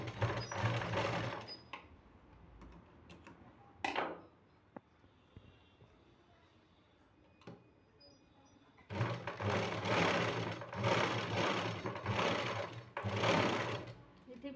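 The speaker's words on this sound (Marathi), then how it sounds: "आपण असं उचलून 1 इंच शिलाई करून घेणार." A sewing machine stitches the drawstring casing of a salwar in short bursts: a whirring run at the start, a quick burst near four seconds, then two longer loud runs later. Someone speaks between the bursts.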